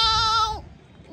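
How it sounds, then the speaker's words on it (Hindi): A goat bleats once, loud and close, a quavering harmonic cry lasting about half a second before fading into quiet background. "ओ निकल आवाज, ये तो बकरी की है।"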